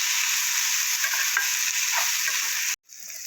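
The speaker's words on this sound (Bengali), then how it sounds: "দিয়ে আরও কিছুক্ষণ ভালো করে একটু ভাজা ভাজা করে দেব" Pumpkin peels being stirred and fried in a pan, a close continuous sizzle with soft scraping of a spoon, cutting off briefly near the end before resuming quieter.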